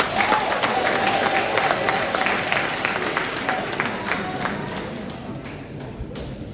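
Steady applause from an audience in Ghana's Parliament, dense clapping that holds throughout and slowly tapers off toward the end.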